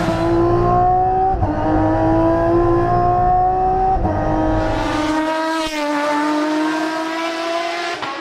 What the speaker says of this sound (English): the most powerful naturally aspirated V12, and that is in the Aston Martin Vulcan